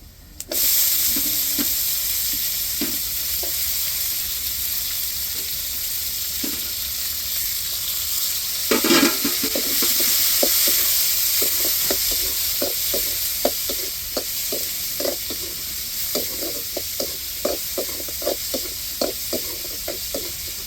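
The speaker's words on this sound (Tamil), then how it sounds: "இப்போ தக்காளி மிளகாய் சேர்த்துக்கிடுவோம்." Tomatoes and chilies sizzle steadily in a hot pan, with stirring scrapes and clinks ticking in an irregular rhythm partway through.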